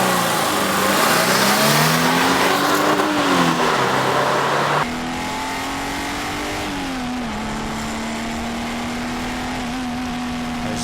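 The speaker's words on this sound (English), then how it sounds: "what is a review without a 0 to 60 run?" Subaru Impreza 2.5RS accelerating hard in a 0 to 60 run, engine pitch rising through the gears with a gear change mid-run, then a steady higher drone inside the car, no talk.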